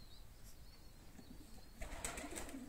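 Pigeons at a pigeon keeper's loft coo softly and flutter their wings nearby, a quiet soft ambience with a brief burst of flapping near the end.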